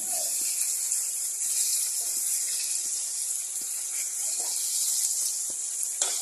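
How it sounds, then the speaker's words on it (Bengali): Fish for a curry fries in hot oil with a constant bright hiss and occasional faint taps and clicks in the background. "ঝোলের মাছগুলো ভাজা করছি।"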